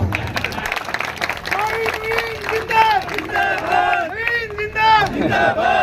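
A rally crowd in Pundri, Haryana, welcoming Naveen Jindal, cheers and claps loudly in a continuous roar, with rising shouted voices and excited chanting layered over the din.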